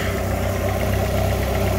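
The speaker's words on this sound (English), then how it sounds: "So engine runs fine." The engine of an Alfa Romeo 145 Cloverleaf idles under the open bonnet with a steady, close, even hum and a faint rapid ticking from slightly noisy tappets.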